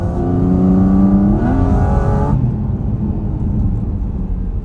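A loud 2025 Porsche 718 Cayman GT4 RS engine roars close by while downshifting, its pitch stepping up sharply in a quick rev-matched blip before dropping to a lower, rumbling drone.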